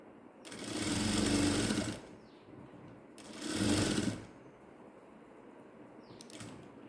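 A sewing machine stitching ladies' straight pants runs in two bursts of rapid, steady mechanical whirring, each lasting a second or more, with quiet pauses between and a brief third start at the end, close and alone.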